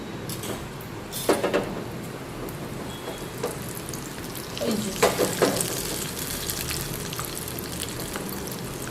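Cumin seeds sizzle and crackle in hot oil for a kadhi tempering, a steady broadband frying hiss with a few louder spatters and stirring bursts near the middle, close and alone without talk.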